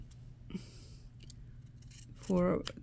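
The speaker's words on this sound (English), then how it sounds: "I will also snip the seam allowance every half an inch or so" Scissors snip into a fabric seam allowance while sewing a bias facing onto a neckline, a couple of faint close clicks of the blades, with a short voiced murmur near the end over a low room hum.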